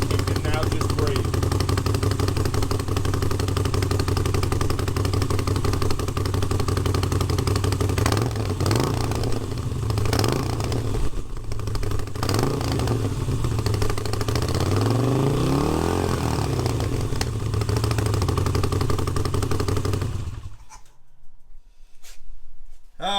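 A Moto Guzzi V7 with catalytic converters and one stock exhaust opened up runs close by, a loud, rough, throbbing engine note with clatter that rises and falls with revving before cutting off near the end.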